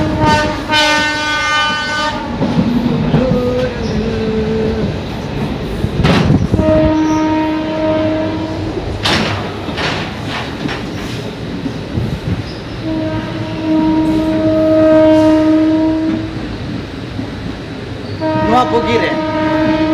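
Train running near Digha station, with loud rolling rumble and repeated horn blasts sounding in several bursts across the stretch, close and heavy, with faint voices mixed into the noise.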